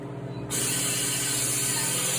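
A sudden, steady hiss of air rushing out begins after a short mechanical hum and continues evenly as a Harvest Right freeze dryer releases its vacuum after drying pineapple.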